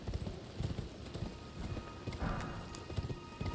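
A galloping horse in the Elden Ring video game pounds along in fast, close hoofbeats, continuous and fairly faint over a soft background.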